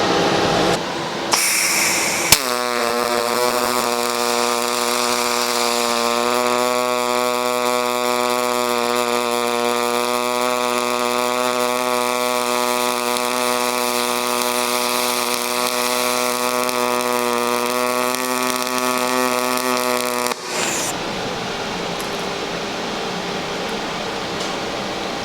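Pulse MIG welding aluminum with 4043 wire: after a brief start, a steady, loud buzzing hum with a strong pulsing drone holds for about eighteen seconds, then cuts off abruptly, leaving quieter background noise.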